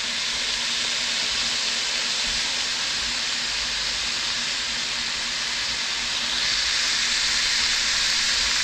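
Island-style run down chicken with vegetables cooks in a pot, giving a steady, even sizzling hiss that runs unbroken throughout and swells slightly toward the end.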